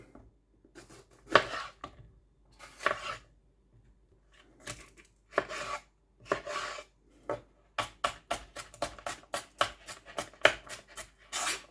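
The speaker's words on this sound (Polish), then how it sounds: "Paprykę również kroimy w drobną kostkę." Knife chopping bell pepper into small cubes on a cutting board while preparing beef stroganoff soup, heard as close, crisp cuts in short bursts that turn into a fast, steady run of evenly spaced chops.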